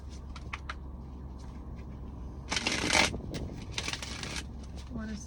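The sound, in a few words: shuffling tarot cards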